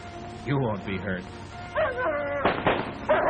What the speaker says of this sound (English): Pal and the others bark, frightened and angry